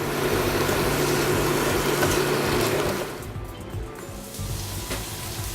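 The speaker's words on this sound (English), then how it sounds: "you're going to stir your onions and make sure that they're all coated in the oil" Chopped onions sizzling loudly in hot oil in a pan for about three seconds, a dense steady hiss that then drops to a quieter simmer as they are stirred.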